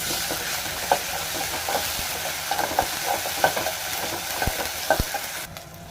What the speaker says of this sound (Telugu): ఆనియన్స్ బాగా ఫ్రై అయిన వరకు కలుపుకోవాలి